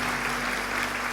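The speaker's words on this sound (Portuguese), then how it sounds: "Pode aplaudir esse Deus maravilhoso" A church congregation applauds, a dense, steady wash of clapping from many hands filling the room at even loudness.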